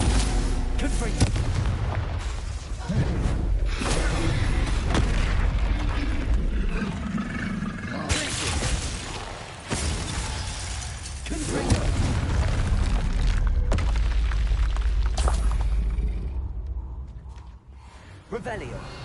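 Confringo fire spell exploding in the video game Hogwarts Legacy on PS5, a loud booming blast amid dense game effects and music, with a voice shouting over the roar.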